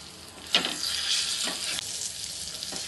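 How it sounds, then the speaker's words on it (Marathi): A large pomfret fish frying in a pan and being flipped, giving a bright, continuous hiss that flares briefly with each turn, with a sharp clatter early on and softer bursts later. "पापलेट पलटी करून बघते शेकलाय काय."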